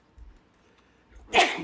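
A single sharp sneeze in a quiet meeting room during a commission workshop, bursting out suddenly after faint background murmur.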